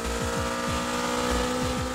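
A Honda Civic Type R EK9 engine revving hard, a loud, continuous high-pitched drone with quick repeated sweeps as it climbs and shifts, close and unaccompanied by talk.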